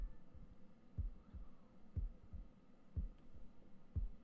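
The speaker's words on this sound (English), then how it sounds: "We're back to that heartbeat." Heartbeat sound effect from Pink Floyd's Dark Side of the Moon: a steady, deep low thump repeating about once a second, faint and muffled, with no voices.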